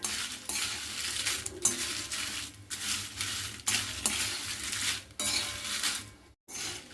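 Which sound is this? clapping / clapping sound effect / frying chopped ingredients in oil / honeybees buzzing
frying chopped ingredients in oil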